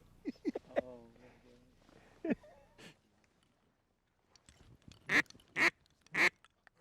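Soft voices murmur at first, then three loud, evenly spaced bluebill duck quacks ring out close by near the end.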